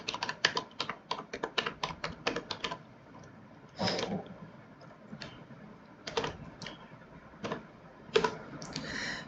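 Fingers typing C code on a computer keyboard in Turbo C, with quick irregular bursts of crisp key clicks, some heavier thumps between them, close and fairly faint, with no voice.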